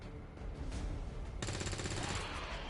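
Gunfire from XCOM 2, a fairly quiet stretch of rapid automatic shots that turns denser and harsher about halfway through, continuous bursts without pause.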